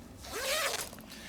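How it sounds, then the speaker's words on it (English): A zipper zips shut along a mesh enclosure used for rearing Walter's silkmoth larvae, one quick rising pull lasting under a second, close and fairly soft. "Of course, then we close the zipper."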